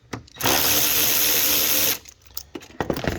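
An 8mm socket on a powered wrench loosens piping on a Scat Pack engine, giving a loud, steady whirring buzz for about one and a half seconds, followed by scattered metallic clicks and handling knocks.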